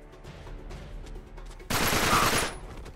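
Machine gun fire in the video game Uncharted 3 erupts as a loud, rapid burst of shots lasting under a second, following quieter game ambience and faint scattered sounds.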